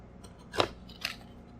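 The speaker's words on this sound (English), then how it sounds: "So it's got a piece of tape, and I'll just pull my little Gerber pocket knife out here." A Gerber pocket knife slicing through packing tape on a cardboard box, heard up close as two short, crisp cutting rips about half a second apart.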